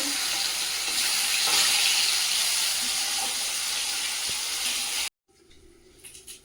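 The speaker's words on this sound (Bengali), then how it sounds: "মাছগুলো ভেজে নেবো" Large pieces of fish frying in hot oil in a home kitchen, a loud continuous crackling sizzle close up that cuts off abruptly near the end, leaving a quiet room with faint clinks.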